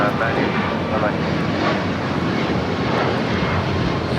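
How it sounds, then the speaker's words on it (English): A Boeing 777 freighter jet rolls down runway 25 left at Los Angeles LAX for takeoff, its steady, broadband engine roar filling the air continuously while a voice talks over it. "And that 777 freighter now rolling down, 25 left"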